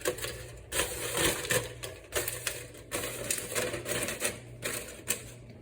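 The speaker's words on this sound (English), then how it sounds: "I'm going to carefully cover with heavy-duty aluminum foil" Heavy-duty aluminum foil crinkles and crackles as it is pressed over a pot holding bread dough, a close, dense series of crisp rustling bursts continuing throughout with no speech.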